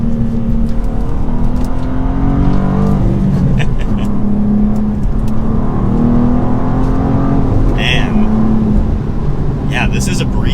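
2023 BMW M2 manual sports car accelerating through twisty turns, a loud steady engine drone rising and falling in pitch, with someone talking over it throughout.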